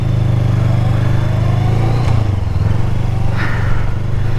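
A 2020 Honda Rebel 500 ABS motorcycle engine droning loud and close at high speed, a steady mid-pitched hum with wind rush and a brief rise in revs partway through.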